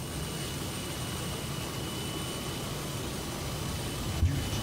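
Aircraft engine in a flight simulator game as the plane departs straight out from runway 16: a steady, loud, unbroken drone fills the whole stretch, with a faint thump near the end.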